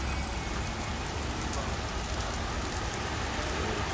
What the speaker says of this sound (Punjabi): ਮੀਂਹ ਨੇ ਕਾਫੀ ਜ਼ੋਰ ਫੜ ਲਿਆ